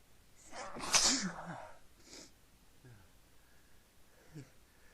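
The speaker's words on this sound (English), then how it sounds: "Sneeze again." A loud, sharp sneeze into a handkerchief bursts out near the start, followed by a couple of quieter breathy sniffs and small vocal sounds.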